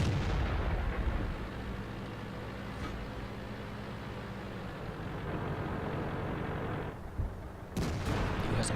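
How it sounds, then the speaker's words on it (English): Tank cannon fire in World of Tanks, an M103 battle with a Waffenträger Panzer IV: a heavy booming shot with a long rumbling tail, then a sharp second blast near the end. "Who has a meaty set shell just put into him there by that Waffenträger Panzer IV"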